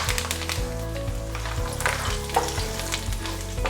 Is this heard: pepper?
yes